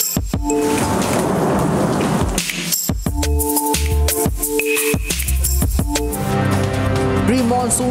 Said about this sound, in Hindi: मानसून की पहली बारिश